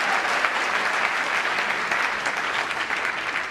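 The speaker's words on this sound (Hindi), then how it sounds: "ये तालियां जो बज रही हैं" Seminar audience for UPSC and MPPSC aspirants applauding steadily, a dense, even wash of clapping that holds at the same level throughout without pause.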